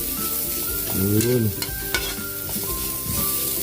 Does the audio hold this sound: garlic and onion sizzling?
yes